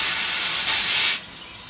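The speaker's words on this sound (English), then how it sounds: "I'm going to pump them all up" An air pump inflates the tires of a Craftsman LT2000 lawn tractor, a close, loud, steady hiss of rushing air that swells briefly and then drops to a quieter, continuing hiss.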